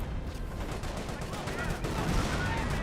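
Grenadier rifle and machine-gun fire in the World War II strategy game Company of Heroes, dense overlapping bursts and rattling shots filling the mix, with a caster talking over it.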